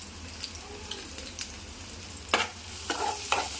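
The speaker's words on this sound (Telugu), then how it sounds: "ఆవాలు వేసుకుందాం జీలకర్ర ఆవాలు కాస్త పసుపు" Mustard seeds, cumin and turmeric sizzle in hot oil, a soft crackle with occasional louder spatters and pops near the end, fairly quiet and steady.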